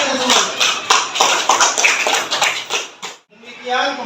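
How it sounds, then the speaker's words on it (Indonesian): A class in a school setting bursts into busy, uneven clapping for about three seconds, then it stops abruptly and a voice starts talking. "tepuk tangan sekali lagi untuk kita semua"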